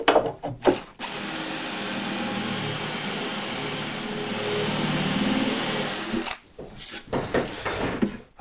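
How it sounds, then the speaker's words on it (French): A power drill with a wood bit bores into solid walnut for a 1950s-style sideboard leg, running as a steady close whine for several seconds, bracketed by brief clicks and handling noises. "c'est une mèche à bois, alors il y a une petite pointe au bout"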